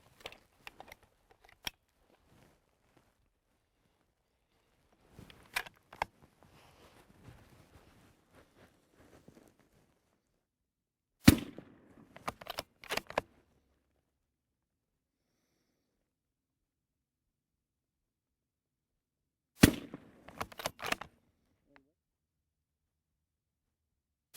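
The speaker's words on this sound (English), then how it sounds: "we just shot a 3-round group" A rifle fires during long-range sight-in practice, giving a few sharp, faint cracks spaced seconds apart, with quiet handling noises in between.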